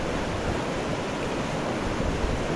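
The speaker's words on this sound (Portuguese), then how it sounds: "Tá forte a água, viu? Essa água vai descendo aqui em busca do Gargalheiras." Strong floodwater rushes toward the Gargalheiras reservoir in Acari, Rio Grande do Norte, a loud, steady, broadband roar close by with no talk over it.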